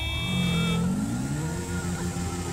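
A car accelerates hard in the video game GTA Online, its mid-pitched engine revving up steadily and loudly over about two seconds, with no talk over it.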